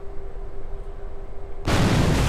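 A spacecraft in Kerbal Space Program splashes down in the ocean, a sudden loud broadband whoosh of impact spray that cuts in over a quiet, steady hum and keeps roaring to the end.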